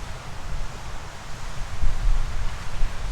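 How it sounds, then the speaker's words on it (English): Wind blowing off an exposed beach at about 3 to 4 knots rushes steadily and loudly in a broad, continuous noise, with low buffeting gusts that grow stronger midway and no voices. "right now it looks like the wind coming off the beach is approximately 3 to 4 knots."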